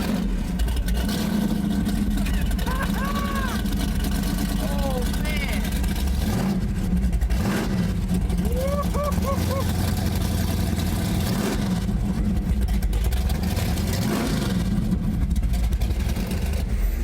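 A 1967 Chevy Nova SS V8 idles with a steady deep rumble, rising into a few short revs, while people talk and exclaim over it throughout.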